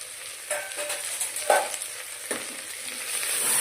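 Homemade paneer pieces fry in oil in a biryani pot, a soft steady sizzle broken by a few stirring scrapes and clinks, close and without talk.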